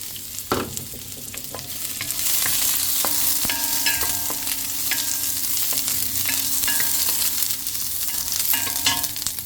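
Onion hits a hot pan for chicken tinola and fries with a constant loud sizzle, with occasional utensil clinks and stirring scrapes and no one talking.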